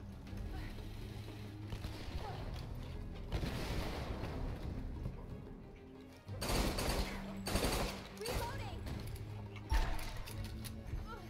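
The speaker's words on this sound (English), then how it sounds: "I'm shooting light bulbs." Gunfire in a Tomb Raider multiplayer match as shots are aimed at light bulbs: bursts of close, sharp shots over game background noise, with a few louder cracks near the end.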